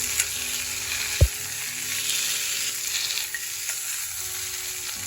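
Boiled potato pieces are stirred with roasted chilies in a pan while making a farali fasting dish, giving a steady low sizzle of frying with scraping and stirring, plus one sharp knock of the utensil against the pan near the start.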